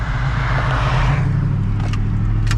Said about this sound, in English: All right, there's a car coming.